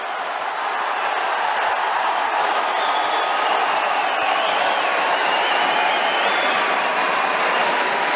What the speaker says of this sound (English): Listen to that crowd support.